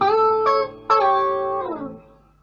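Electric guitar with the pickup selector set between two pickups, played as a few close, clear plucked notes and chords that ring out and fade, with no talking.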